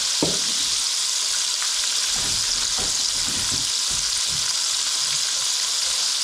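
Beer-battered catfish fillets frying in hot oil, a loud, continuous close sizzle with a few faint knocks and stirring movements mixed in, and no talking.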